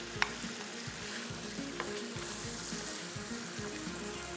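Finely chopped tomatoes frying in masala in a pot for biryani, a soft low sizzle with faint bubbling and an occasional click of a utensil, quiet and continuous without voices.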